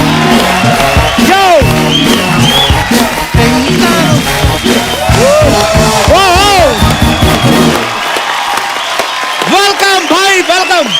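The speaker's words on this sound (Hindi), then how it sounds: "प्लीज वेलकम आपकी जोरदार तालियों के बीच मिस्टर सलमान खान एंड कटरीना कैफ।" Studio audience on a comedy talk show erupting into loud, sustained applause with cheers, whoops and shouts, under rising music and a host calling out, before the clapping cuts away and talk continues.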